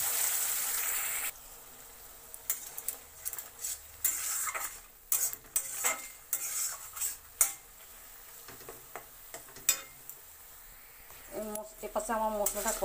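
Ginger, tomato and green chili paste hits hot oil with turmeric and a bay leaf, giving a brief loud sizzle, then lighter crackling and scraping stirs under a talking voice.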